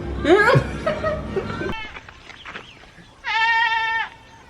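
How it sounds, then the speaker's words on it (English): A goat bleats once, loud and drawn-out, near the end, after people talk and laugh at the start. "See the goats?"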